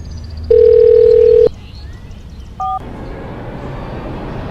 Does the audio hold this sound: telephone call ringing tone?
yes